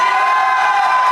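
Live audience at a gaming livestream event cheering and whooping for Cyclops, a brief, loud, sustained burst of crowd noise.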